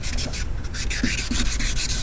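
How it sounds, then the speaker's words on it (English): 400 grit wet sandpaper rubbed over a Chevy Caprice's car door jambs, a close, continuous rhythmic scrubbing with quick back-and-forth strokes and no talking. "I just continue using this 400 grit wet sand"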